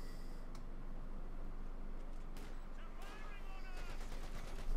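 A .50 caliber machine gun fires in a Company of Heroes 2 battle, a steady rattle of bursts suppressing infantry, fairly faint beneath a caster's commentary, with a few sharper shots toward the end.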